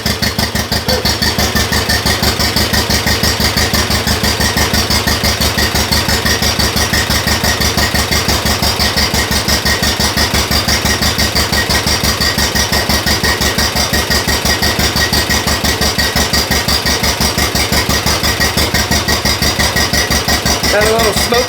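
Just after its first start, a freshly assembled engine idles loud and near, a steady fast pulsing chug that keeps an even rhythm from start to finish while a voice is faintly heard in the background.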